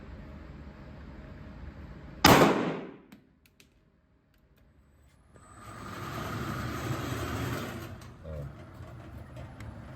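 A CZ Shadow 2 Compact pistol fires one PLG round at a shooting range: a single sharp, loud report, then quiet, then a low rumbling background swell.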